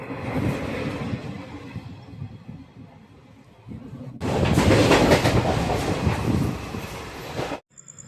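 17626 Delta Express train from Repalle to Secunderabad rumbling along the rails with steady clickety-clack, growing louder and closer halfway through before cutting off abruptly.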